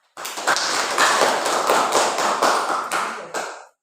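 Applause from a group in a classroom, a steady patter of clapping hands that starts abruptly, holds evenly for a few seconds with a few sharper claps, then stops.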